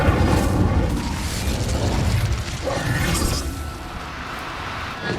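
Incendio fire spell going off in the video game Hogwarts Legacy: a dense, rumbling burst of booming blasts and crackling mechanical clatter that rolls on steadily for several seconds, loud and close.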